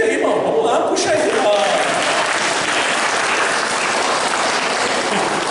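Church congregation applauding during an evening celebration service, a dense steady wash of clapping filling the whole stretch at even loudness, with a voice speaking briefly over it near the start.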